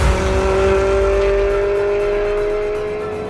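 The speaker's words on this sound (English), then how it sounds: "Everything's so raw, and the noise from that V8 engine" A Ferrari 360 Challenge Stradale's V8 engine roars loud and close in a sustained, raw, high-revving note that holds steady and then eases off slightly toward the end.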